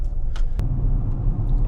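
A 2017 GMC Sierra 1500 Denali pickup rolls along at about 30 mph, giving a steady low road rumble and engine drone with light tire noise and a brief knock partway through, close and continuous.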